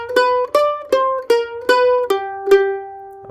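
Mandolin playing the second half of a slide lick: seven crisp picked notes in an even rhythm, each with a sharp attack and quick decay, the last notes sliding lower, clear and close with no talking.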